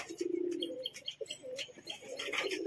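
A pigeon coos repeatedly nearby, low rounded calls in a steady run, with other birds chirping faintly in the background.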